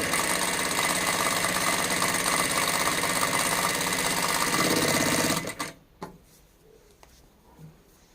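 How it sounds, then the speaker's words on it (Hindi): A DAISEN DS Z1 industrial sewing machine stitches fabric with a fast, loud, even mechanical whir that stops abruptly about two-thirds through, leaving quiet room noise with a couple of faint clicks. "मशीन की जो आवाज़ है वो आप देख सकते हैं"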